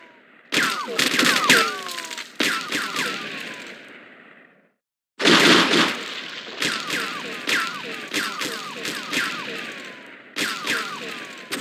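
Bursts of gunfire in the crime video game True Crime: Streets of L.A., loud sharp shots firing in rapid clusters with ringing echoes, separated by a brief silent gap.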